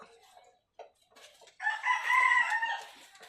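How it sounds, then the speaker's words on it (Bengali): A large multicoloured rooster on a small farm crows once nearby, a loud drawn-out call after a few softer clucks and rustles. "এখানে আছে একটা মোরগ।"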